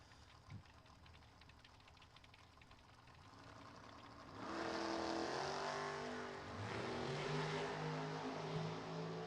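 Drag racing cars at a West Coast Classic race, a dragster and a door car, fire up and run, a loud engine roar rising after a quieter start and holding steady with shifting tones.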